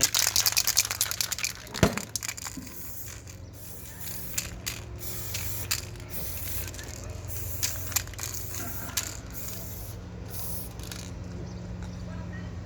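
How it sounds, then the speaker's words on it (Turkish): Black spray paint hisses from an aerosol can at close range in bursts, with a sharp rattle near the start and faint mechanical clicks over a low steady hum. "Sprey boyamız var. Siyah"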